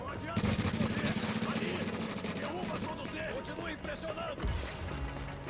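Rapid automatic gunfire rattles in the shooter video game Tom Clancy's The Division, dense bursts continuing almost nonstop under excited voices talking throughout.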